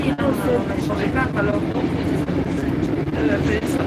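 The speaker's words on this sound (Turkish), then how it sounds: "Şu anda trenin içindeyiz." Interior of a train bound for Brussels: a steady rumbling rail hum fills the cabin throughout, with people talking over it.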